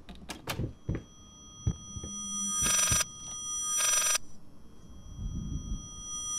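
A phone rings in the horror game Layers of Fear, two long bright bursts of bell-like ringing standing out against dull thuds, footsteps and low ambient rumble, with no voices.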